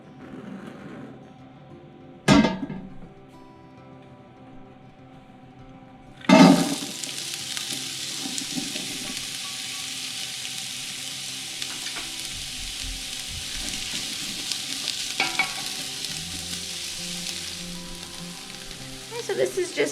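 Meat browning in bacon grease in a pan, starting as a loud, steady sizzle that carries on under a few clatters and scrapes of utensils.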